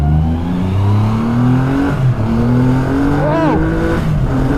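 A Triumph Rocket 3 GT motorcycle, the 2020 model, accelerates hard, its engine note climbing in rising pitch sweeps through the gears, loud and close, with a brief whine near the end.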